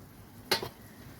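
Black mustard seeds are stirred in mustard oil in a pan while making mango kasundi, giving one short, quiet scrape-and-sizzle burst over a low, steady background.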